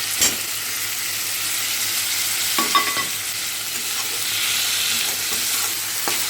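Tomato with sugar, salt, turmeric and chilli powder cooking in a pan, a continuous sizzle broken by a few scraping clatters of stirring, no voices.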